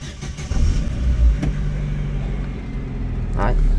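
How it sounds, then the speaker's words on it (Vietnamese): A used five-seat car's engine idles smoothly at close range, a low steady rumble, while someone talks over it. "Đấy, máy thì êm ái,"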